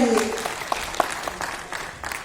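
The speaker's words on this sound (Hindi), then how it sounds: "तालियां बजती रहनी चाहिए" Applause from an audience at an orientation and felicitation programme for teachers and resource persons, a steady patter of clapping hands with a voice fading out at the start.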